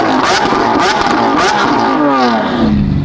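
Ferrari engine held on launch control, revving hard against a limiter that seems stuck around a fixed rpm, a loud, close, rasping drone with pulsing surges and a falling pitch sweep near the end.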